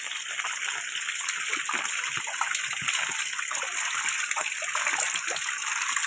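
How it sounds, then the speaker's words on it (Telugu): Rainwater pours and trickles into an old colony house in Pedana, a constant loud rushing and splattering of water, steady throughout with no voices. "ఇల్లు కారిపోతుంది కదా, ఇది లోపల కారుతుంది కదా."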